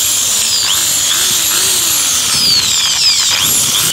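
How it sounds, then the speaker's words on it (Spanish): Cheap corded electric drill of the Trow brand running steadily at close range, a loud high motor whine with small shifts in pitch and no voices over it. "Por este lado tenemos un taladro de cable"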